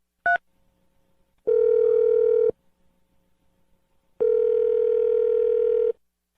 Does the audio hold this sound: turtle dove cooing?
no